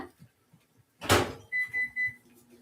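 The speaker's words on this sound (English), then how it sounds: "I'm going to go pop this in the microwave real quick" A microwave door opens with a thump in a home candle-making setup for melting soy wax, followed by three short, even electronic keypad beeps, close and clear.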